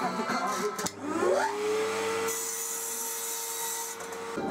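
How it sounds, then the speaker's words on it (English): Mitre saw cutting salvaged oak lengths into pieces against a stop block: a loud whining motor spins up, then a steady sawing drone holds through the cut and drops away near the end. "I set up a stop block at the mitre station and cut 8 pieces."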